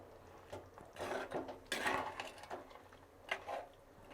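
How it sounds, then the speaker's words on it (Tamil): Quail pieces are stirred slowly in a cooking pan, giving soft scraping and rubbing strokes with light clatter in uneven bursts. The sound stays fairly close and quiet. "இப்போ இந்த காடை பீசஸ் எல்லாம் போட்டதுக்கப்புறம் இதை அப்படியே மெதுவாக கிளறி விடுங்க"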